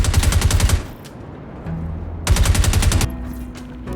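Loud bursts of automatic gunfire in Star Citizen aimed at a power generator: two rapid, evenly spaced volleys close up, separated by a short lull with a faint mechanical hum.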